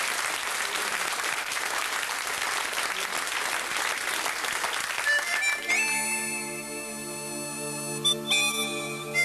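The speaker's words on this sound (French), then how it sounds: "Je vous demande de l'applaudir." Audience applause for a singer at a televised show, dense clapping for about five seconds that gives way to the opening music of the song, with a faint whistle.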